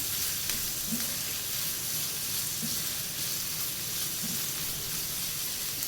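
Chopped onions fry in oil in a pan, a steady, close sizzle with a scraping stir repeating roughly every second and a half, no voices over it.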